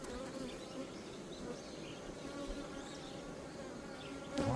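Honeybees hum steadily around an opened beehive during autumn hive inspection, a soft, continuous buzz with a slight swell near the end.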